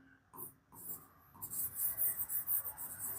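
Marker squeaking and rubbing across a board while a maths problem is worked out, soft scratchy strokes that grow into a rhythmic series of bursts, close and with no talk.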